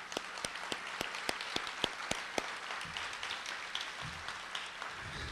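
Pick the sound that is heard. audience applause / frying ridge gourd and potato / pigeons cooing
audience applause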